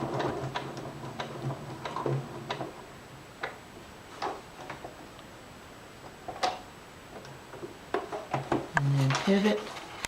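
A sewing machine walked slowly by hand while stitching a tower placket gives sparse, uneven mechanical clicks and ticks, close and fairly quiet, with a person talking over much of it.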